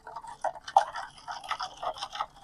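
Wet scraping and swishing of a thick Bordeaux mixture fungicide being stirred, irregular strokes close up, with no talking.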